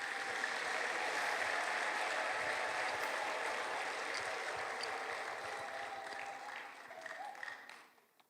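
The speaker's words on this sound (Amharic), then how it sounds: "ኧረ አጨብጭቡ ለጌታ።" A church congregation applauds steadily for several seconds during a sermon, with a faint tonal hum beneath, before the clapping tapers off near the end.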